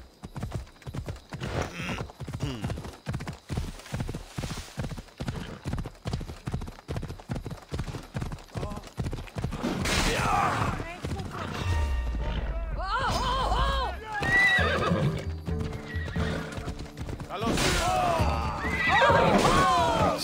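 Horse in Assassin's Creed Odyssey galloping with steady, rapid hoofbeats for about ten seconds, then whinnying loudly several times over game ambience and music, with someone talking intermittently.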